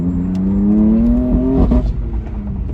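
BMW M4 fitted with a single midpipe exhaust, revving loudly up close, with a deep rising drone that climbs steadily, pops at its peak and then falls back to a rumble.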